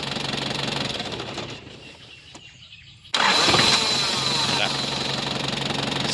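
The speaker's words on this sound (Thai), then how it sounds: "ดับเครื่องและสตาร์ทนะครับเอาให้มั่นใจ" A 1996 Nissan Big-M pickup truck engine cranks and catches, rising from a quieter stretch into a loud, steady idle close by; an earlier running engine dies away first, and a voice is faintly present.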